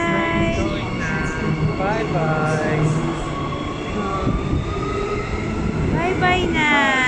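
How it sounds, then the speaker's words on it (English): A metro train pulls away from a station south of Perth, Western Australia, with a close, steady rumble and rising, squealing wheel tones. A child and an adult call out over the noise. "Bye-bye, train!"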